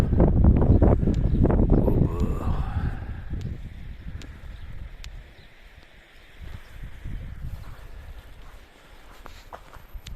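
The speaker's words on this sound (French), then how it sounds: "Ah, t'as vu le vent au bord." Strong gusts of wind buffet the microphone with heavy low rumbling at first, then ease into a softer, steadier blowing.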